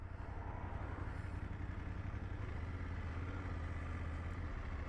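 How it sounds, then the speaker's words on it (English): A 2024 BMW F 800GS motorcycle engine runs steadily with a low, even drone and faint mechanical clatter, heard at a fairly quiet level with no voices. "The engines are nice and smooth on the throttle."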